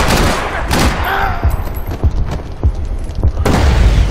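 Loud, dense gunfire from the shooter game Max Payne 3, with rapid cracks and booming volleys in an unbroken barrage that carries right through the clip.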